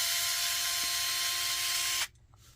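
Power screwdriver drives a small screw into an RC truck: a steady whirring motor whine for about two seconds that stops abruptly, followed by quiet.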